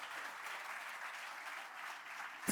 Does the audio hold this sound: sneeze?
no